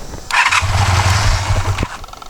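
A 1984 Honda 500 Interceptor motorcycle engine cranks, catches and runs with a steady low rumble for over a second before cutting out, loud and close, with no talk.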